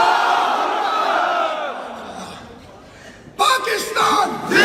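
Crowd at a political rally roaring back in unison after a speaker's slogan call, a sudden loud collective shout bursting out near the end after the speaker's voice fades.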